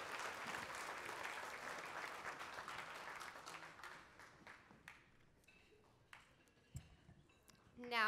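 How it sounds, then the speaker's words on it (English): A banquet audience at a 4-H awards event claps in a broad round of applause that gradually thins out and fades, leaving scattered claps and small room noises near the end. "let's give all of these people a huge round of applause"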